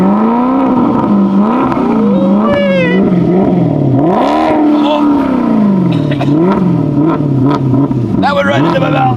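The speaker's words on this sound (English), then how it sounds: "Rev it up!" A Maserati supercar engine revs hard and loud several times, its pitch sweeping up and down in repeated climbs, with voices shouting over it.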